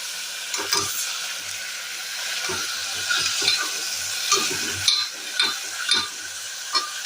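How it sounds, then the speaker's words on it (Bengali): Vegetables fry with a steady, broad sizzle in a pan while a spoon stirs them in repeated scraping strokes, close up, with no voices. "এবার এটা আমি একটু ভাজা ভাজা হতে দেবো"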